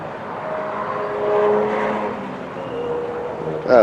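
A Ford Focus RS with a paddle-shift automatic driving past on a short racing circuit, a moderate engine note swelling and fading as it passes, ending in a sharp closer sound.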